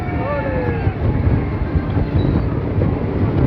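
A train arriving at a crowded station on the Tarakeswar–Sheoraphuli line rumbles steadily nearby with a low continuous roar and faint squealing wheel tones, along with wind buffeting the microphone.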